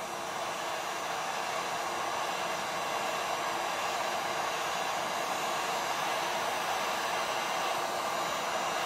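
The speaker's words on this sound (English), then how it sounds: "I'm just going to heat up this bearing real quickly" A bearing for a Husqvarna 372XP chainsaw bottom end is heated on a workbench, giving a steady, close, unbroken hissing roar that holds at an even level throughout.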